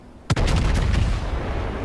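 Heavy naval main-battery guns of the battleship Gneisenau fire in World of Warships: one sharp, booming salvo, loud and close, then a long rumbling echo that rolls on to the end.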